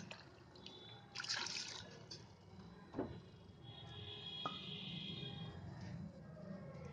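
Water is poured from a bowl onto sugar in a kitchen pan to start a syrup for sweet boondi, a faint trickle and splash with a clunk or two of utensils, no voices.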